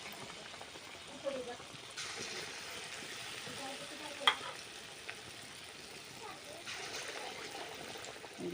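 Ripe banana pitha batter frying in hot oil in a home kitchen, a steady low sizzle with a few light clinks of a ladle, faint and continuous throughout.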